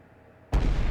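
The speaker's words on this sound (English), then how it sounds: "massive explosion tears through the air. The blast is heard for miles" A nuclear reactor unit explodes in a sudden, massive blast that cuts in after a low rumble and sustains a loud, broad roar to the end.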